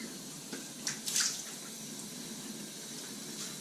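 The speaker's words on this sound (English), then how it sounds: "let's go for wet in the face and let's begin this shave" Running tap water splashes close by as the face is wetted before a shave, with a steady flow and a few brighter splashes early on.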